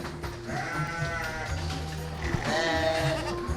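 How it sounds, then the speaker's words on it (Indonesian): Garut sheep in a pen bleating repeatedly, wavering calls over a constant background of farm noise and other animals. "Ini ada domba Garut juga"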